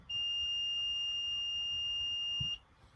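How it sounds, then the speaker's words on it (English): A single steady buzzer tone from a Raspberry Pi alarm sounds for about two and a half seconds, high-pitched and continuous, then cuts off abruptly in a quiet room. "there's a little buzzer associated with it that I added to the Raspberry Pi"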